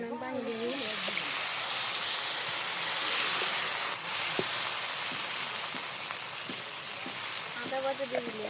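Water poured into a hot pan of fried onion bursts into a loud steady steam hiss that slowly softens, with a few light utensil taps and someone speaking briefly at start and end.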